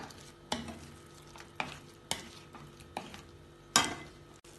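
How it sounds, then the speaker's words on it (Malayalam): Chicken being stirred with spices in a pan, with five or six distinct spoon scrapes and knocks against the metal over a low, continuous sizzle. "ഇതെല്ലാം കൂടി ഇളക്കി മിക്സ് ചെയ്യാം."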